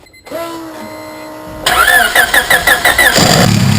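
A turbocharged Honda Civic B-series engine (650 hp, twin-scroll turbo) cranks briefly, then catches and roars to life with a few uneven revs before settling, loud and close.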